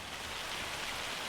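Steady rain in Farming Simulator 25, pattering on open ground away from the river, a dense, even hiss that fills the whole moment with no other sounds.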